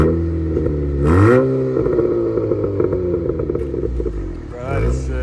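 A 2018-2023 Honda Accord with its muffler and resonator deleted revs loudly up close, its deep droning exhaust rising in two sharp throttle blips over a rough idle.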